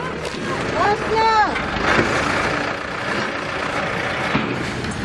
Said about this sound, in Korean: 쓰레기차가 들어오자